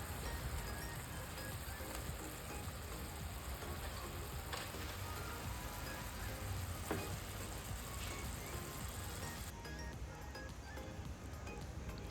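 Chicken pieces simmer in a yogurt masala gravy for Iffa chicken, giving a steady, close bubbling sizzle that runs evenly throughout with a few brief clinks.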